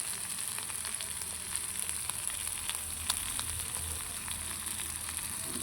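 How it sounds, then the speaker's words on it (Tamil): Sliced onions sauté with salt in a hot pan, giving a steady, close sizzle and crackle with faint stirring throughout and no voices. "உப்பு சேர்த்து லைட்டாக ஒரு வதக்கிட்டுருக்கோம்"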